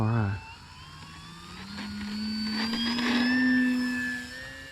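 An E-Flite Commander RC airplane on 3S electric power flies past, its motor a rising and falling whine that swells to a peak and fades. Wind noise rides underneath the motor.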